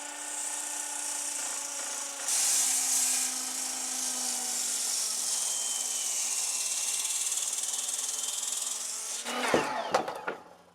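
A Sasquatch saw cuts about an inch off a wooden post resting on sawhorses, giving a loud, steady, high-pitched motor whine for roughly nine seconds before it winds down with a few clattering knocks.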